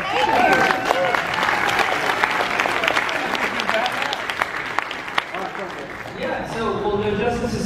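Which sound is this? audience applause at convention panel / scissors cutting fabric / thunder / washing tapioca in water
audience applause at convention panel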